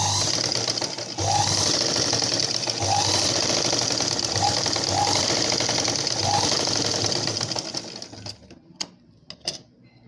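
Sewing machine stitching a blouse runs in a fast, steady mechanical whir close by for about eight seconds, then stops, leaving a few faint clicks and handling sounds.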